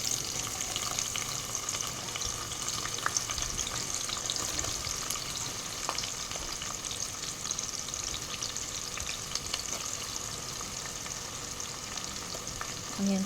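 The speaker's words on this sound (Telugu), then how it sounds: "ఆనియన్స్ మంచిగా ఫ్రై అవ్వాలి." Onions sizzle and fry in hot oil for a mutton curry, a steady crackling hiss with occasional stirring and faint water or kitchen sounds, with no talking.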